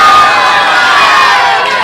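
A crowd at a political rally in Pakistan cheers and claps continuously and loudly, a dense wall of whoops and shouting sustained throughout with no pause.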